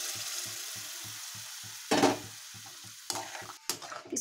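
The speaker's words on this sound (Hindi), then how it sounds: "इसको भूजते हुए आपको बीच बीच में इसको चलाते जाना है, चलाते रहिए इसको" A yogurt and gram flour mixture roasts in a pan while being stirred, a low bubbling sizzle with a few louder scraping stirs toward the middle and end, and no voices.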